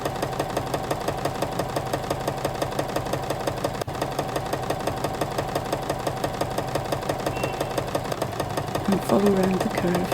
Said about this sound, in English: Then sew the 2 strips together along this edge.